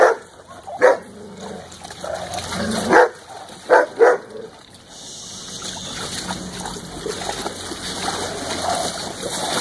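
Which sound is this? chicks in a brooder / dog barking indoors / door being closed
dog barking indoors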